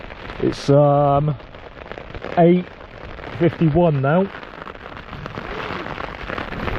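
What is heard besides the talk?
rain falling outside a tent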